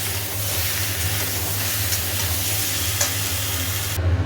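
Cauliflower curry with turmeric, chilli, cumin and coriander powders sizzles and fries loudly in a pan, a dense continuous hiss with stirring scrapes close up and no talk.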